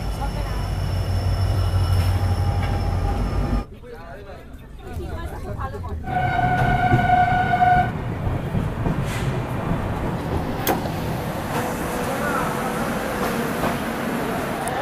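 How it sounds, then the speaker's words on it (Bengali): A Shatabdi Express train, the 12041 Howrah to New Jalpaiguri service, stands at platform 2 of Barsoi railway station during a one-minute halt. There is a steady rumble with tonal hums, a brief quieter dip, and station chatter and voices throughout. "2 নম্বর প্ল্যাটফর্মে ট্রেন দাঁড়িয়েছে।"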